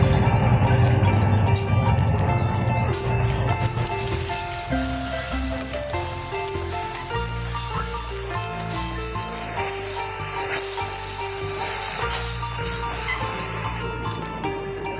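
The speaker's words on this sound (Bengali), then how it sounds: "পেঁয়াজগুলো নরম হয়ে এলে টমেটোর পিউরি মিশিয়ে আরও 5 থেকে 6 মিনিট কষাতে হবে।" Onions and tomato puree sauté in a pan for an egg curry, giving a steady loud sizzle throughout with occasional clinks, while music plays along underneath.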